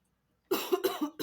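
A person coughs after a moment of silence, a quick close burst of three or four harsh coughs.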